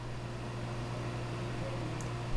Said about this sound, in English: The magic heat fan just turned on, so we're reclaiming some of the heat that's going out the chimney